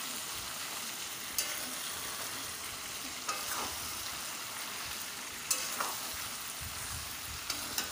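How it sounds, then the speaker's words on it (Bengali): Potato and pumpkin stems sizzle steadily in a frying pan, with a few sharp scrapes of a spoon stirring through them; the sizzle is continuous and fairly quiet, with no voices. "এবার আলু আর কুমড়ো ডাঁটাটা দিয়ে দিলাম। আর একবার ভালো করে একটু নেড়ে নিয়ে"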